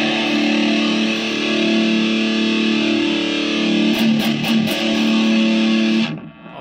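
An electric guitar runs through a Horse Pocket Metal distortion pedal with the gain cranked, a loud, dense sustained chord ringing with heavy saturation, a few choppy strikes near the end before it cuts off.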